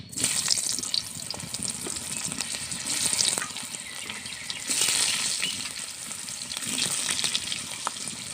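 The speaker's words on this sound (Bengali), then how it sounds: "এবার তুলে নিচ্ছি তেলের মধ্যে দিয়ে দিচ্ছি আলু" Potatoes hiss and sizzle steadily in hot oil in a pan, with loud crackling frying that swells and eases as they are stirred, and no talking over it.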